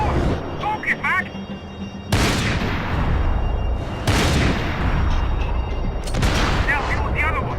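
Heavy gunfire and booming blasts in the video game Max Payne 3, loud and dense with repeated explosive bursts every couple of seconds, while shouting voices and game chatter run over the action.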